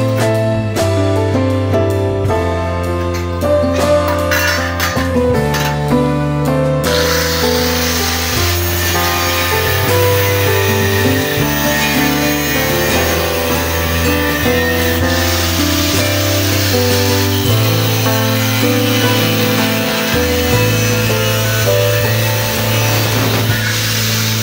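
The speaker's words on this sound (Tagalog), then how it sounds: "Sa lagari ba talaga ang angle grinder." An angle grinder cuts through a steel angle bar, making a continuous harsh grinding rasp that grows fuller after the first few seconds. Tonal background music runs underneath throughout.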